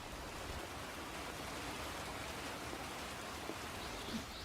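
Steady rain falling outdoors in Jeju's nature, a continuous even hiss of drops with no breaks, soft and diffuse with a couple of faint isolated taps.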